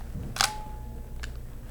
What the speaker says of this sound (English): It went, the opening shutter went, but the closing shutter didn't finish.